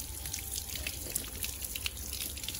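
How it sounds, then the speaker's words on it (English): Steady running water rinses a Samsung T7 Shield SSD from all sides to wash off sand, a continuous hissing flow with faint dripping, no voices. "I am washing it from all of the sides so that no sand is there on it."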